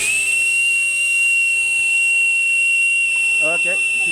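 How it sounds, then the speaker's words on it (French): The live-steam whistle on a radio-controlled model steam launch sounds one continuous shrill, steady tone throughout. Mechanical chatter runs underneath, and a brief voice is heard near the end. "Un petit coup de siffle."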